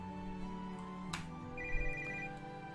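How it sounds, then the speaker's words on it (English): A telephone rings in the video game The World is Your Weapon: a steady electronic ringtone with a sustained tonal buzz, clear and alone, with a brief brighter chime partway through. "The phone's ringing, and apparently it's the blacksmith."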